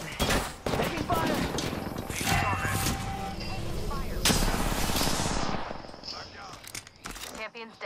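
Apex Legends gunfire rattles in rapid bursts mixed with in-game voice lines and other game sounds, loud and dense before thinning out near the end.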